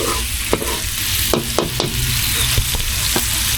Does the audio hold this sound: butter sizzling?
yes